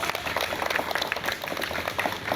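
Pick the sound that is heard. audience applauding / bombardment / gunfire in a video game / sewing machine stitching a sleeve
audience applauding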